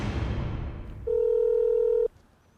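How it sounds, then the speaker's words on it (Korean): A telephone call that goes unanswered: a short, sustained electronic beep tone, loud and close, sounds alone for about a second after some muffled background noise, then stops. "문자를 받은 직후 아내와의 전화 통화를 시도했지만 그녀는 받지 않았습니다"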